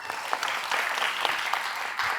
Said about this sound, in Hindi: एक बार सभी लोग के लिए जोरदार तालियां guys